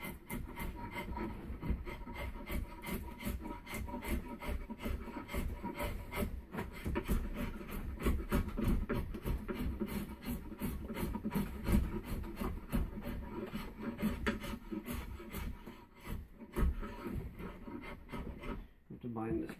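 A hand rasp shapes the limbs of a yew bowstave in fast, rhythmic rubbing strokes, close and continuous, with a short pause near the end.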